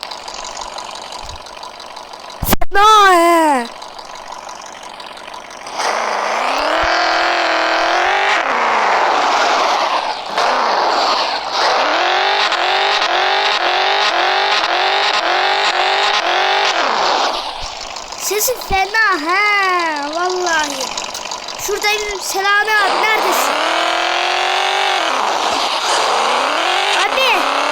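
A modified Honda Civic engine idles and then revs repeatedly in rising, falling sweeps, loud and close, with brief pauses between bursts; someone speaks briefly over it.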